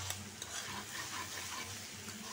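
Bhotbhoti bhaji stir-frying in a pan, giving a soft continuous sizzle with faint stirring underneath, quiet and close with no talking.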